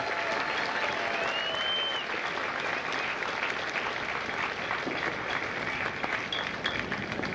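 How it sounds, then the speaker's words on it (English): Steady, dense applause from a large crowd at a Marine graduation at MCRD San Diego, continuous clapping filling the space throughout. "a round of applause for the Marines that make Marines"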